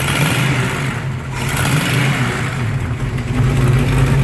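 The engine of a 1936 Buick with an overheating issue revs loudly and close, a rough mid-pitched roar that surges and eases over a few seconds without pause, with no talking.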